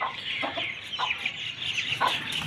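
A flock of chickens and chicks in a small backyard mini zoo clucking and chirping continuously, close and fairly loud, with overlapping high peeps and short clucks and no talking.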